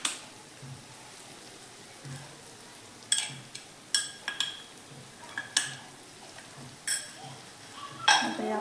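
A spoon stirs homemade masala, chili powder, turmeric and coriander powder into sprouted horse gram in a pan. Sharp metallic clinks and scrapes repeat at irregular intervals over a soft, low background.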